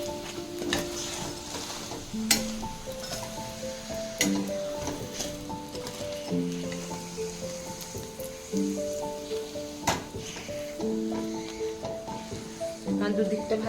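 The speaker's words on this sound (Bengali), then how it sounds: "এখন আমি তেল দিয়ে আরেক পিঠটা সেঁকে নিচ্ছি ভালো করে।" Paneer roll flatbread toasting in oil on a hot pan gives a steady soft sizzle with light scraping and stirring clicks, running under talk with background music throughout.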